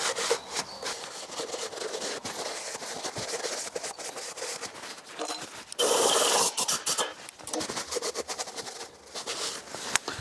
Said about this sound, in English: Let's make sure that there's not too much oil on this. And I'm using a lint-free cloth.